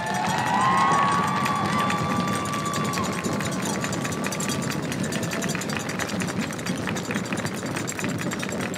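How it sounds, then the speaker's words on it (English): A marching band competition audience keeps up a steady wash of applause and cheering for the whole stretch. Whistles and shouts ring out near the start, and the noise stays dense and sustained throughout. "can you give this band a round of applause one more"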